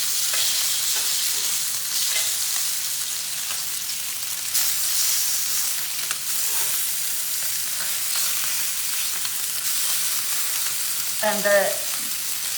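A lamb rack browns in a hot pan, giving a loud, continuous sizzle with occasional crackles close by and a brief voiced sound near the end.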